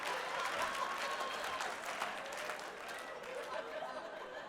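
A live comedy audience claps in a broad, fairly distant wash of applause with scattered chatter and a chuckle mixed in, fading slightly toward the end.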